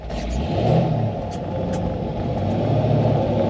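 A 1934 Ford five-window coupe with a three-speed gearbox pulls away in first gear, its engine revving steadily and loud with a low rumble throughout, no speech over it.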